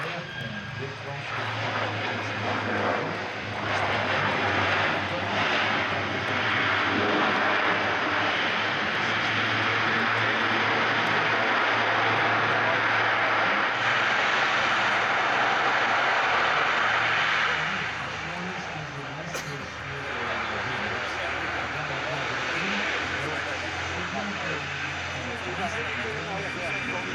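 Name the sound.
aircraft landing at Le Bourget airshow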